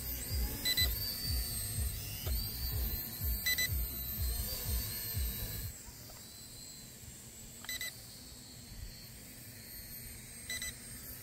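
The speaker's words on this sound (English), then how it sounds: "that battery started beeping quite quickly" A toy drone's low-battery alarm sounds as repeated electronic beeps in short bursts over a steady whirring rotor hum that drops lower partway through; no voices.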